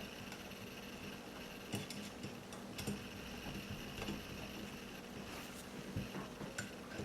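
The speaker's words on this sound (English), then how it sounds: "Then I'll run the screws down to where they just touch the locking ring." Screws turned down against the locking ring of a WaterFixer quartz sleeve housing, giving faint, irregular metallic ticks and small clicks scattered over a quiet hiss.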